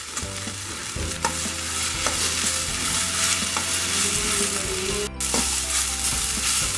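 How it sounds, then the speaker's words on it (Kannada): Cumin seeds, black pepper and poppy seeds fry in a pan with cinnamon and cloves, giving a steady close sizzle with scattered stirring scrapes and a brief dip near the end. "ನೋಡಿ ಇದು ಚೆನ್ನಾಗಿ ಫ್ರೈ ಆಗಿದೆ"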